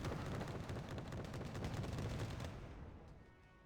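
Rocket fire from a motorized unit in Wargame Red Dragon, a dense rapid crackling barrage of launches and blasts that holds loud for over two seconds, then thins and fades, with no talk.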